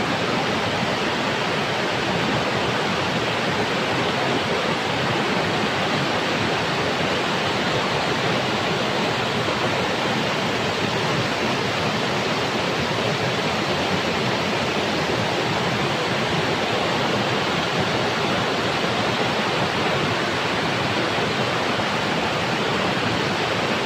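A waterfall rushes during a snowy mountain hike in Norway, a loud, steady broadband roar that fills the whole stretch without pause and drowns out other sounds.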